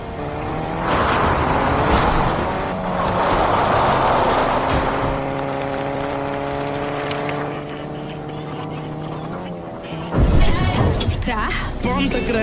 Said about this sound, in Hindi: मुझे लगता है इस गाड़ी का नाम है महिंद्रा बाहुबली क्योंकि जिस तरीके से ये पेड़ तोड़ते हुए जा रही है